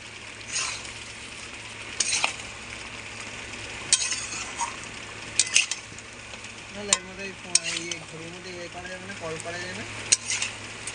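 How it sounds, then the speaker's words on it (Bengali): Raw potato pieces stirring and scraping in hot oil for Bengali chicken kosha, a soft frying sizzle running throughout with intermittent clinks of a spatula against the pan and a voice speaking briefly partway through. "হ্যাঁ আর একটু কষে নেবো, তেল ছাড়া অবধি আমি কষে নেবো"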